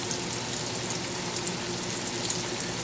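Pieces of squash frying in a pan make a steady, moderate sizzle and crackle, close by and even throughout, with no talking.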